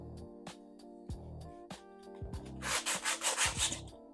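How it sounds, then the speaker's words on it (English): Dried concrete coating being lightly sanded by hand, with short, soft rubbing strokes that build into a quick run of louder scratchy passes near the end, over a faint steady background hum. "I'm going to lightly sand it before I put on another thin coat around the sides"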